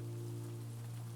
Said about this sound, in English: The rain continues outside